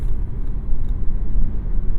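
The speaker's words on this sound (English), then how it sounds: "There's a little bit of wind noise, but we're going into a headwind, and for road noise, it's very good." Cabin of a 2024 Dodge Hornet at speed, filled with a loud, steady low rumble of road noise and a soft hiss of wind, with no talk.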